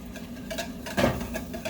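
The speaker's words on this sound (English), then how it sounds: "this is the last bit of melted butter, whisking that in" A whisk beats the last of the melted butter into hollandaise sauce in a bowl, with quick, irregular clicking and scraping strokes close up, one brief louder clatter in the middle.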